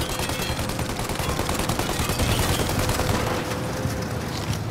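A heavy, sustained burst of automatic gunfire in Mafia: Definitive Edition, loud and unbroken, thinning slightly toward the end.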